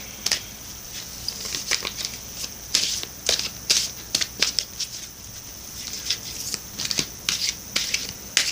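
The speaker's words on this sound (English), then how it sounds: "Now I'm going to shuffle for you the Divine Circus Oracle deck." A Divine Circus Oracle card deck being shuffled by hand, producing repeated soft riffling and rubbing bursts in an irregular rhythm, close and moderately quiet with no talking.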